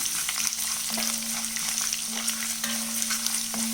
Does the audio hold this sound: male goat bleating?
no